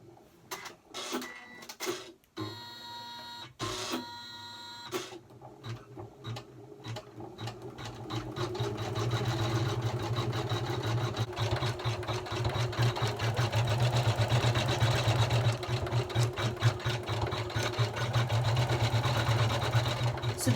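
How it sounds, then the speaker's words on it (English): A Janome 500e embroidery machine stitching an in-the-hoop project: a few clicks and short bursts at first, then a steady, fast, rhythmic mechanical whir that builds and holds at moderate loudness. "And then I'm going to go down and stitch the outside, so that will hold it all together."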